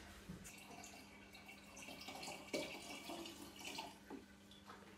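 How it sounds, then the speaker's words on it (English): Water pours steadily into a Pinter homebrew keg, a low continuous splashing and trickling at modest level, with faint clinks and no talking. "And you're filling up to the line that is clearly visible inside the Pinter."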